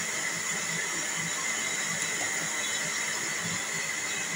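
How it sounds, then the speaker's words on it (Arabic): A blender runs continuously with a steady, dense whirring roar, loud and close throughout. "هطفي كده على الخلاط وارجع لكم تاني"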